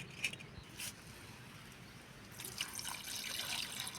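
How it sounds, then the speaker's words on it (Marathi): Raw chicken being washed in water for a home recipe, with soft splashes and trickling, faint and close, in a few brief bursts with quiet gaps. "लगेच पाण्यामध्ये चांगलं स्वच्छ धुवून घेणार आहोत"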